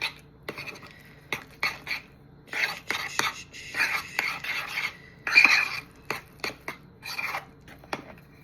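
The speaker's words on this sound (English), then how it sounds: "I'm gonna mix this up, then taste it." Vegan tuna sandwich filling is mixed in a bowl with soft scraping and stirring strokes in irregular short bursts, close and fairly quiet, with faint whispery breath noise between them.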